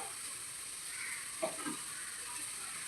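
Battered cauliflower pieces for Gobi 65 fry in hot oil with a faint, continuous sizzle and a soft bubbling crackle.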